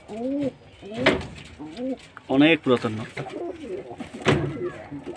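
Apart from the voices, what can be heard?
pigeons cooing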